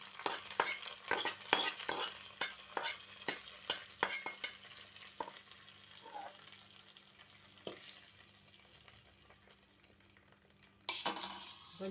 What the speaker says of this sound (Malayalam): അതിനുശേഷം നമുക്ക് വറുത്ത വറവ ഇട്ട് കൊടുക്കാം.